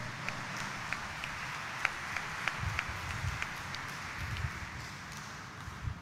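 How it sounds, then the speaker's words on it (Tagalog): Scattered applause from a church congregation at a Monday morning Mass at Quiapo Church, a steady, moderately distant clapping patter with a few sharper claps standing out across several seconds. "Ibigay po natin ang ating pinakamalakas na palakpak at papuri sa ating mahal na poong Jesus Nazareno."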